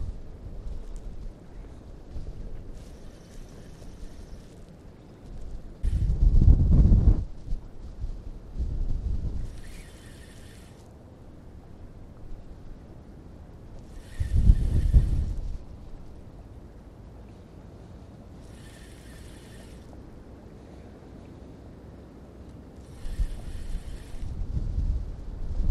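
Strong wind buffets the microphone in heavy low rumbling gusts, with quieter stretches between and faint hissy bursts recurring.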